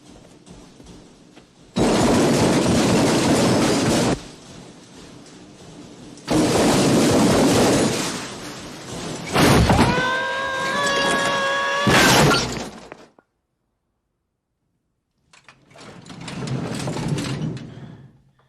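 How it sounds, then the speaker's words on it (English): Loud clattering crashes of a metal tool chest tumbling down stairs in bursts, with rattling impacts and a ringing clang, then a pause before one more crash. "That was the sound of a tool chest falling down the stairs."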